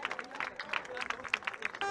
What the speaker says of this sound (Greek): Η Έψο Δεκανήσου η οποία κερδίζει και το χειροκρότημα από τον κόσμο